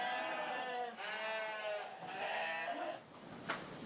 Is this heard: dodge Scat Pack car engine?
no